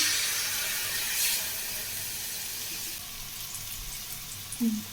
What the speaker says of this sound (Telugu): సో చూడండి, వాటర్ వేస్తాను.